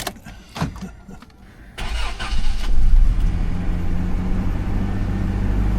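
An old 30-year-old Toyota 4Runner with a rebuilt engine cranks over on a cold morning, then catches and settles into a loud, steady close-up idle.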